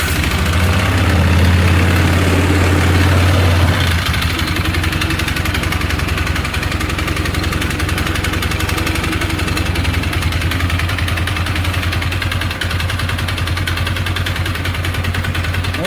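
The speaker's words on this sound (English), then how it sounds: "So now we're going to do a cold start here. Pull the choke. Turn her on." A 2012 Polaris Sportsman 500 ATV fires up from cold with the choke pulled, its engine surging briefly before settling into a steady, loud, close idle that runs on unchanged.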